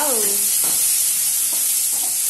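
Finely chopped onions sizzle in a pan with a loud, steady hiss, broken by a few scraping stirs, heard up close without talk.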